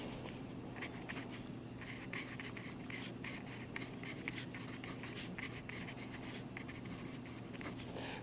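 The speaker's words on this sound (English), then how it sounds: "I'm going to write that here." Handwriting with a pen during a lesson, a faint continuous scratching and tapping of strokes, quiet and close, with no talking.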